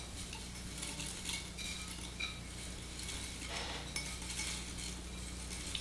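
Dehydrated onion poured into a measuring cup, soft dry rattling and light clinking in several small bursts, quiet and close with no talk.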